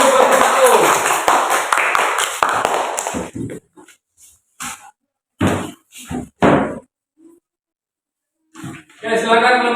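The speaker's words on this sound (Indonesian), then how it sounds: "Tepuk tangan dulu kelompok" Classroom students applaud group 1 in a dense, loud burst for about three seconds, followed by a few scattered claps and knocks with voices speaking in between.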